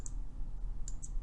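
A few faint computer mouse clicks in a quiet room, one near the start and a quick pair near the end.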